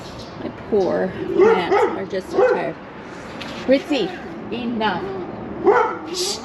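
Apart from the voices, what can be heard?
small dog barking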